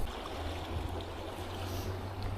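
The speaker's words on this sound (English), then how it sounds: "Nice little place here, Mackenzie Creek." Mackenzie Creek runs in a steady broadband wash, close and continuous, with a low hum beneath and no voices.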